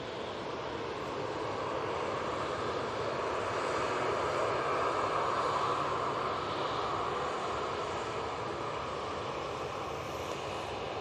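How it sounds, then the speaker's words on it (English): A Ryanair Boeing 737-800 from Dublin touching down at Manchester Airport, its engines giving a steady, moderately distant roar that swells slightly in the middle and holds throughout, with no talking. "And let's get that Ryanair from Dublin. Just touching down now."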